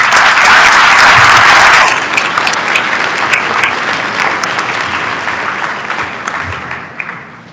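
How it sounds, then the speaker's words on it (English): A graduation ceremony audience applauds parents with loud, dense clapping that peaks early, then eases slowly and thins toward the end. "Please give your parents a round of applause for a job well done."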